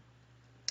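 A single sharp right-button click of a computer mouse while working in PowerDirector video-editing software, brief and faint, near the end over a low steady hum.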